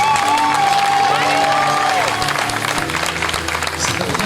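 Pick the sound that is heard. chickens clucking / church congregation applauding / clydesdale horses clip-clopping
church congregation applauding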